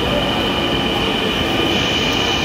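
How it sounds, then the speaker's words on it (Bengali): A Dhaka metro rail train pulls into a station with a loud, continuous rumble and a grinding roar of wheels on track, close by and unbroken, with no talk over it. "আমরা দেখতে পাচ্ছি এখানে আমাদের ট্রেন চলে আসলো"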